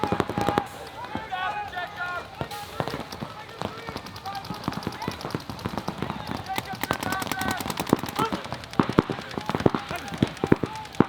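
Paintball markers fire during a pro match between FIT and Hurricanes: dense bursts of rapid snapping shots, some in quick strings and others isolated, run continuously under a talking voice.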